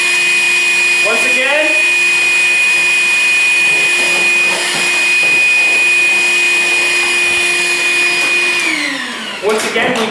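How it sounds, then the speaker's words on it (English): A steady vacuum cleaner roar runs the whole time, loud and close, with its motor pitch wavering slightly and briefly dipping near the end, picking up dust while a hole is cut by hand. "I'm also gonna vacuum as I cut, keep down the dust"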